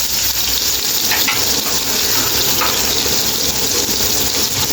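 Cumin, salt and turmeric fry in a pan for a dhaba-style chicken masoor dal, giving a loud, dense, continuous sizzle close up with a steady, unbroken hiss.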